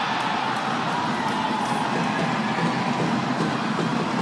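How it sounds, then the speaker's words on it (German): Fans in the Erfurt stand cheer at an Oberliga Nord ice hockey game between Saale Bulls and TecArt Black Dragons Erfurt, a loud, dense crowd roar that holds steady for several seconds. "Und Jubel in der Erfurter Kurve"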